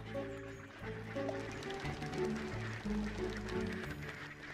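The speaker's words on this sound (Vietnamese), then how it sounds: "Lũ vịt trời nhanh chóng biến nơi này thành một spa trong mùa đông." Wild ducks quacking on open water in winter on the Volga, several birds calling in overlapping bursts close by over a steady background.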